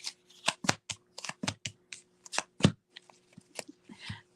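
Tarot cards shuffled and handled up close, a quick series of crisp riffling flicks and slaps with short gaps, fairly quiet and with no talking.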